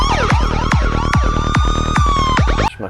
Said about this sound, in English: Sorry about all the sirens, by the way.